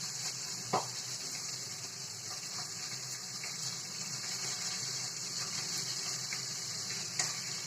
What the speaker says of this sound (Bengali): ওইদিকে আমার মাছ ভাজাটা হচ্ছে